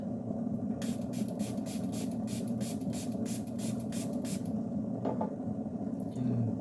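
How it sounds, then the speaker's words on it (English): A spray bottle mists water onto coffee grounds in a quick series of short hissing bursts, about a dozen evenly spaced, over a steady low background hum. "I use it just to damp the coffee grounds a little bit"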